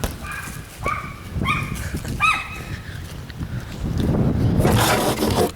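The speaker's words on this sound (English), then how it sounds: "That was my dog." A pet dog gives several short, high, whimpering yelps and barks during outdoor play, close and fairly loud, followed by rustling movement.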